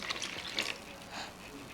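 Milk, 140 ml, poured into a ginger and date cake batter already holding dates and butter: a soft, steady liquid pour with a slight gush near the start, close and moderately quiet, with no voices.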